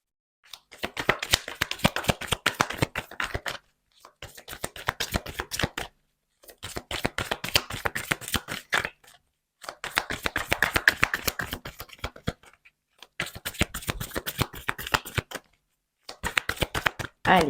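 Tarot cards are shuffled close up in six quick riffling bursts of crisp paper flutter, with short pauses between them and no talking.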